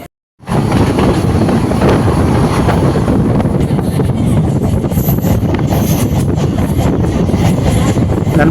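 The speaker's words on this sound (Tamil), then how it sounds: "நம்ம இந்த ட்ரெயினில் வந்து லோக்கல் இஎம்ஐ ட்ரெயினில் டிராவல் பண்ணிட்டு இருக்கோம்." A local EMU suburban train runs at night from Arakkonam toward Avadi, heard from inside the carriage as a loud, steady rumble of wheels and motors with wind rush and rattling that hold on continuously after a brief quiet start.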